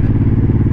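An M90 motorcycle engine pulls hard in second gear at high revs, a loud close pulsing rumble with wind buffeting during the brief ride.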